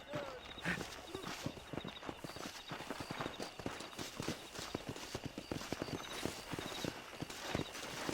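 Horse hooves clip-clop at a steady walking rhythm in the Red Dead Redemption video game, close and continuous throughout, with game ambience underneath.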